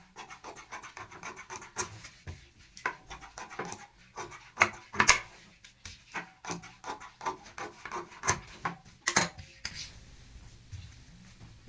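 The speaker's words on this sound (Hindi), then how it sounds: "सिलाई लगाने के बाद एक्स्ट्रा जो मार्जिन होता है वो काट देते हैं।" Fabric being trimmed with scissors along the half-inch seam margin of a sewn zippered cushion cover, heard as close, irregular snips and rustling rubs of cloth, with no talking.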